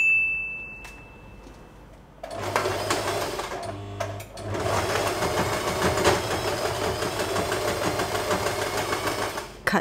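Sewing machine stitching a satin hair bow with long tails, running in a steady rapid mechanical whir that starts after a brief quiet, pauses once, then continues evenly and close.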